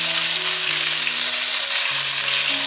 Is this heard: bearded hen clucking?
no